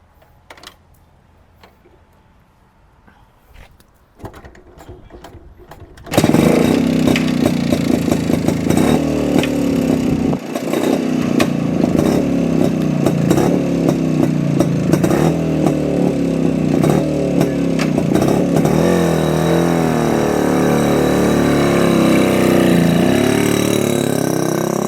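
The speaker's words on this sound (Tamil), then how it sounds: "நான் வெஹிக்கிளை ஸ்டார்ட் பண்ணி காமிக்கிறேன் பாருங்கள்." A 1995 King two-stroke motorcycle is started after a few seconds of faint clicks and clatter. It then catches into a loud, close, raspy idle with crackling exhaust and occasional small revs, running steadily to the end.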